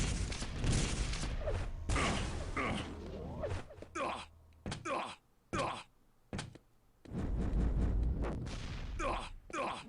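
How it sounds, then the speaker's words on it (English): Rockets fire and burst in rapid bursts during a pro Quake match, sharp blasts broken by short gaps, close and loud with brief quieter stretches between the volleys. "Close rockets coming in"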